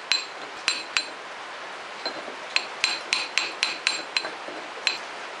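Sharp metallic hammer blows on a brass drift against a left-hand-thread engine shaft nut of a Polaris 400L, a few strikes then a steady run of about nine ringing hits, close and loud with no talk.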